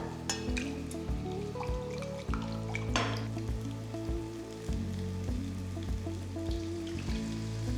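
Water poured into a pan of egg lababdar gravy, a steady pattering and sizzling splash like rain on a hot surface, loud and continuous for several seconds with no talk.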